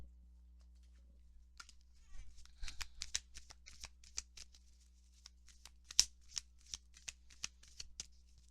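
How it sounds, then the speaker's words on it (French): A deck of tarot oracle cards is shuffled up close, with soft riffling and flicking card sounds in quick irregular bursts that build after a quiet start. "On va aller chercher 3 cartes conseils du voyageur sacré de Denise Lynn."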